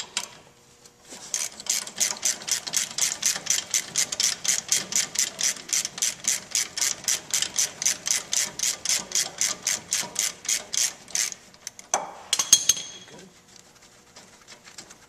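A ratchet turns a caliper bracket bolt on a 2005 Chevy Avalanche during a brake job, giving a long run of rapid, even clicking strokes up close, then a brief clunk and a short pause.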